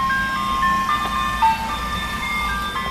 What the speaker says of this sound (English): Damn ice cream truck going around here.